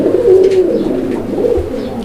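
A pigeon at a Bangladeshi pigeon market gives a low, throaty coo, close and fairly loud, drawn out over a couple of seconds amid faint background noise.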